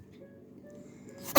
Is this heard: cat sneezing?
yes